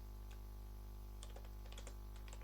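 Keys on a computer keyboard are tapped in a quick, close flurry of clicks during the second half, with nothing before it but a constant electrical hum.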